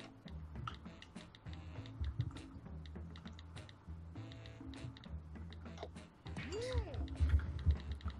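Rapid clicking of a computer keyboard picked up over voice chat during a Quiplash XL party game, continuous irregular ticks with voices talking over it.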